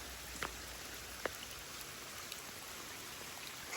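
A rain-swollen farm creek runs high with a faint, steady rushing hiss, broken by a couple of brief splashy ticks.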